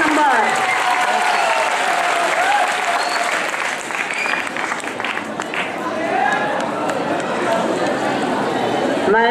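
An audience applauds at a prize distribution function for a 2018 general-knowledge competition, with steady, dense clapping lasting throughout and an announcer's voice speaking over it.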